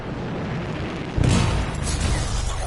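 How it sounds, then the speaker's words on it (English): Canisters go off in a contained explosion: a sudden deep boom bursts in after a low rumbling lead-in, then a heavy roaring rumble continues at high volume to the end. "It'll be a contained explosion."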